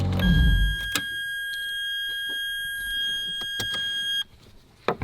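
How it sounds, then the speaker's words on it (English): A Lamborghini supercar emits a sustained high electronic warning beep, a steady tone lasting about four seconds before cutting off, with a few clicks and knocks around it and a brief low rumble at the start. "Everything about this car beeps."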